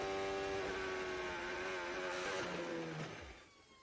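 A high-revving Formula 1 car engine whines during the Spanish Grand Prix, then sputters and its pitch drops away as the engine fails and the power cuts out, fading toward quiet.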